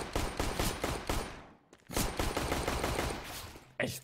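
Rapid Glock pistol shots in Counter-Strike: Global Offensive crack out in quick, evenly spaced strings, one volley, a short pause, then another, loud and close.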